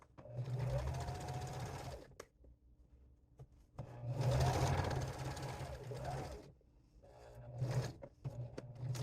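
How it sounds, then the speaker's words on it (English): A sewing machine stitches a ribbon bag seam through to the end in three close, loud bursts of rapid stitching separated by short pauses. "now you sew to the end"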